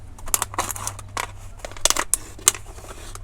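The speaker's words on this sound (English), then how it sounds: "And then I'm going to cut it with my scissors." Scissors snip and crunch through a stiff plastic bottle in a run of sharp, irregular cuts and crackles, close by, with no speech.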